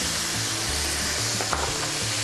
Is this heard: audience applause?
no